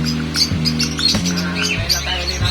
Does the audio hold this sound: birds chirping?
yes